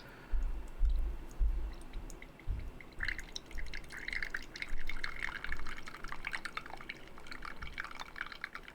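Coffee pours from a piston coffee maker under pressure, a steady close stream with crackling drips and spatter that thickens partway through and continues to the end.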